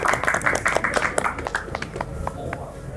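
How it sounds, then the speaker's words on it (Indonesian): Audience clapping for alumni at an Islamic senior high school event, MA Al Hikmah 2 Benda, a scattered burst of many hands that is loud at first, then thins and fades over a few seconds. "Tepuk tangan buat kita."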